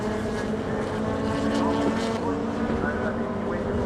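A Lotus race car engine drones steadily as the car rejoins the track at a Brands Hatch racing festival, with a continuous mid-distance roar under a commentator's voice.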